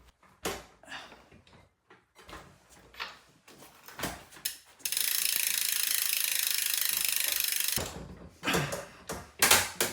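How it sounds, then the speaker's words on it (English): Clicking ratchet wrench tightening bicycle wheel bolts, short ratcheting strokes in bursts, with a steady hissing stretch midway, close and fairly quiet. "I'm just going to be playing around with tightening both of the bolts and pulling the wheel back"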